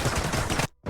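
A single loud, close gunshot rings out in the extraction shooter Ghosts of Tabor. It fills most of the moment and then cuts off abruptly into a brief silence before more noise returns.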